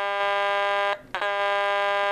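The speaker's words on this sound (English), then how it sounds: "This is the first alarm sound." A loud, steady electronic alarm tone from a G.I. Joe U.S.S. Flagg aircraft carrier toy speaker blares, cutting out briefly for a split second before resuming at the same harsh, buzzing pitch.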